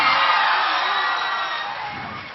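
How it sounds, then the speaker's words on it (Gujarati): An audience at a school prize ceremony applauds a cheque presentation, a dense, steady wash of clapping that slowly fades over a couple of seconds, with no speech on top. "આપણે સૌ તાળીનો ગડગડાટથી આ વિધિને વધાવી લઈએ."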